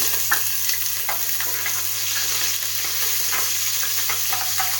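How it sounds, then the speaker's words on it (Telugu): Onion and green chilli frying in hot oil with whole garam masala spices in a cooker, a steady close sizzle with occasional stirring clicks, no talk. "అందులో అవి వేగిన తర్వాత ఉల్లిపాయ పచ్చిమిర్చి వేసుకోవాలి"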